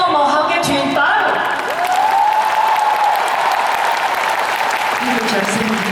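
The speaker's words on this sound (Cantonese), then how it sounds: "我希望得到大家最大力嘅掌聲，" A huge stadium crowd at a concert thank-you show at Kai Tak Main Stadium in Hong Kong claps in a sustained roar of applause. A voice over the speakers rises above it in places.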